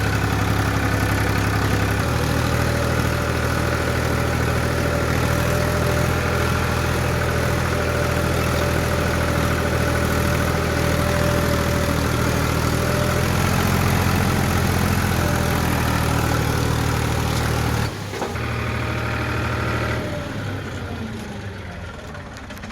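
A tractor engine runs steadily close by with a heavy, droning rumble, then shifts and drops in level near the end.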